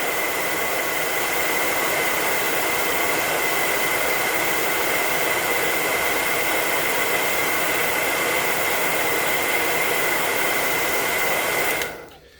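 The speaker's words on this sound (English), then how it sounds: "So you get to hear my annoying hair dryer." A hair dryer blows with a steady, loud whooshing roar, running continuously and then switching off at the end.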